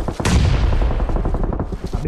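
Rapid automatic gunfire in the video game PUBG Mobile, a dense stream of loud, closely spaced shots with heavy low booms.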